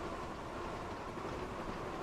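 A steam-era train from the Thomas & Friends: Wonders of Sodor video game rolls along rails as a steady, dense rumble that stays even and continuous throughout, with no voices.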